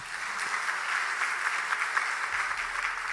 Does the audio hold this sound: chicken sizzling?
no